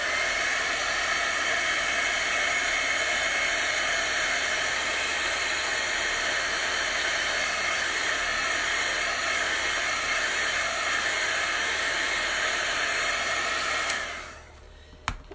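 Close, loud hair dryer blowing steadily over a painted book cover, a constant rushing whine that cuts off abruptly near the end, followed by a small knock.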